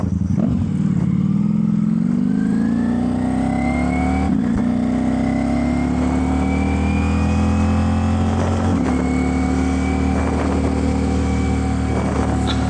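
A 2023 Ducati Diavel V4 motorcycle with the Ducati exhaust and dB killers removed revs loudly and close, its pitch climbing through long pulls with brief gear-change dips, on a cold day and with no speech.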